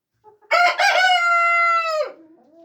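A rooster crows once in a chicken coop, loud and close, a long drawn-out cock-a-doodle-doo of about a second and a half that starts abruptly and breaks off, with faint clucking before and after.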